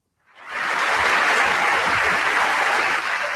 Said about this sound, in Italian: Un applauso al numero.